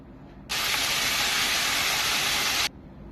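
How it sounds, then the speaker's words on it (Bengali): Meat hits a hot pan and sizzles with a loud, steady hiss that begins suddenly, lasts about two seconds, then drops away to quiet kitchen background. "ওই জন্য মাংসটাকে একটু ভালো করে ভেজে নিচ্ছি"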